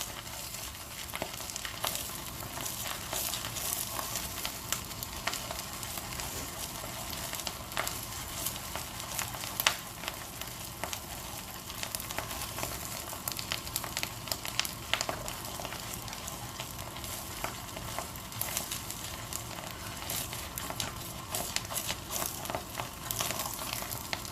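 Onions fry in a pan with a dense, continuous crackling sizzle, loud and close, with occasional stirring scrapes scattered throughout.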